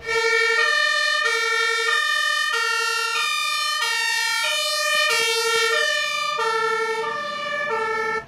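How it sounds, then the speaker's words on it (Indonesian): A fire truck siren wails in a loud, repeating two-tone pattern that alternates between a low and a high pitch for about eight seconds, close and alone. "Wow, ada mobil pemadam."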